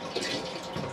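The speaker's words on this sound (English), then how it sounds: "You can give it a flush after your use." A short, steady rush of water runs through a Carthago C-Line motorhome cassette toilet as it flushes, a soft close-up swish lasting about a second.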